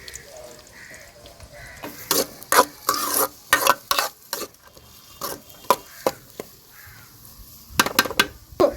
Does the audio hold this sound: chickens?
no